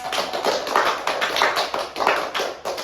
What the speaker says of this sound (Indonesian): tepuk tangannya tuh Rahma